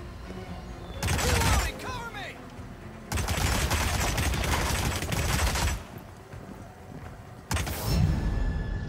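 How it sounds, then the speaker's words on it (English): Gunfire erupts in the Hitman game in three long bursts of rapid automatic shots, loud and dense, separated by quieter gaps, with voices in the scene. "Some nutcase just started to fire off."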